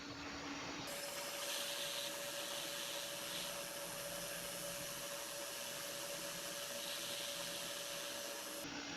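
A hot air rework station blows a steady, even rush of air onto a MacBook Pro logic board at a raised flow setting, with a faint constant whine, running for several seconds before cutting off.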